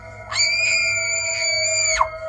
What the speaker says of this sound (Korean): 친구의 비명소리가 들렸다.